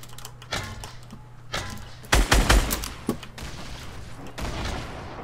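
Gunfire in the video game Fortnite comes as a few scattered single shots, then a loud burst of rapid, close shots in the middle, with a softer shot after and steady game ambience underneath.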